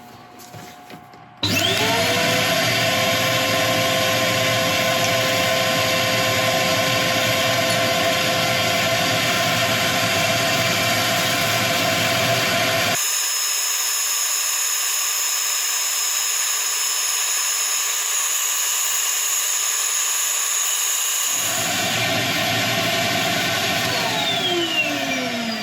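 A wood lathe spins a woodturning piece while it is sanded, a loud steady whine and hiss that runs continuously, changes tone midway, then resumes its earlier pitch.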